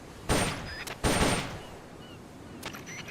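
Gunshots fired during shooting practice in a video game: a few sharp, separated bursts, two close together then a fainter pair, over a quiet background.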